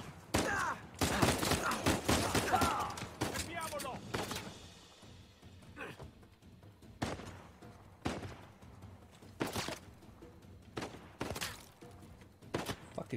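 Enemy gunfire aimed at the player in Uncharted 4: loud clustered volleys of shots at the start, then irregular single and double cracks spread out over the following seconds, with quieter gaps between.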